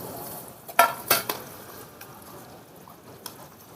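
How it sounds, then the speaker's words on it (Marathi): Oil and peanuts are poured into hot jaggery syrup in a pot over a small wood stove, giving a couple of sharp clinks and a soft sizzle against quiet background noise. "आता आपण तेल टाकू. अजून शेंगदाणे टाकूया."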